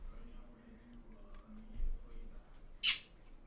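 A pet bird named Tonk gives one sharp, loud squawk near the end, after quiet room tone with faint low murmurs.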